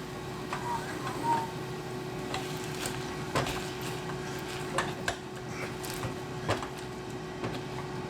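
Mushy peas with melted butter are mashed in a pan, a few scattered scrapes and clinks of utensil on metal, moderately quiet, with a voice talking now and then.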